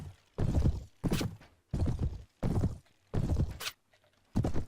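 A horse gallops in the Mount & Blade: Warband game with the A Clash of Kings mod, its hoofbeats coming as six loud, evenly spaced bursts of thudding clatter separated by short silences.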